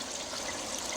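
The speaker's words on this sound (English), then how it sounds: "It's just like it's a trickle shower. So water comes in and it just goes down." Water trickles steadily down through a filter container on a garden pond converted from a swimming pool, a soft continuous hiss-like splashing, faint and even with no other sounds.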